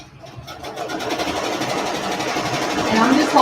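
A sewing machine stitches along the side seam of a shirt for side seam embroidery, running as a steady, close mechanical whir that grows slightly louder toward the end.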